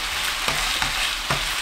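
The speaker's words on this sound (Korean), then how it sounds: "1분 볶아줍니다." Fish cakes stir-frying in a pan, a steady loud sizzle with a few soft scrapes of stirring, close up and with no talking.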